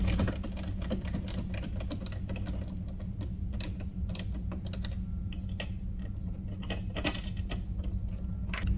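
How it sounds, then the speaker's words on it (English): A Phillips screwdriver with a #3 bit tightens RokBlokz mud flap screws on a 2019 Toyota Corolla Hatchback, giving close, rapid, irregular clicks and small creaks throughout, with no talking. "Now we can take our Phillips head screwdriver with a Phillips head 3 bit, and we're just going to get those tightened up."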